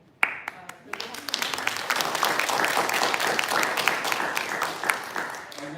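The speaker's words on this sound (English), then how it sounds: "I'm going to join you in applauding members of the team who are here" An audience claps for members of a campus team, a dense, sustained round of applause from a sizable crowd that swells quickly after a few early claps and continues steadily, fairly loud and close.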